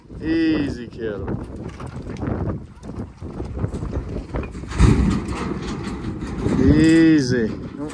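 Cattle moo loudly and repeatedly while a herd is being moved, with hooves and rustling in the background and occasional human voices mixed in.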